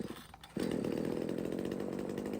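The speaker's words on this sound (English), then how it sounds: "And that saw runs really strong. It's really loud though." A Jon Cutter G5800 Chinese chainsaw, a petrol model, catches and then runs at a steady loud, raspy idle with rattling plastic housing, close up and alone after a short quieter start.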